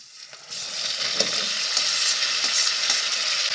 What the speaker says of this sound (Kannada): ಟೊಮೆಟೊ ಕೂಡ ಫ್ರೈ ಮಾಡ್ಕೊಳ್ಳೋಣ.